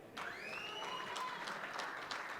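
Audience applause welcoming comedian Lucky Baby onto the stage at a live comedy show: a steady wash of clapping from a crowd, with a few whistles rising above it, no talk.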